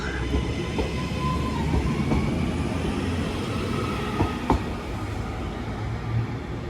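A Class 331 passenger train bound for Liverpool rumbles steadily at close range as it pulls away from Newton-le-Willows station, with low mechanical drone, occasional clanks and a faint wheel squeal.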